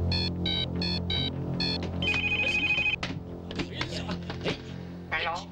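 A telephone rings in a Thai martial-arts film scene, repeated bursts of a bright electronic trill in a regular pattern, followed by clatter and a voice speaking as the call is picked up.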